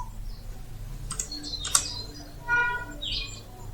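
Computer keyboard keys pressed in a few scattered clicks at an office desk, faint and close, with chirping birds in the background.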